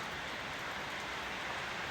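Heavy rain pouring steadily outdoors, a dense, even hiss with no breaks and no talking.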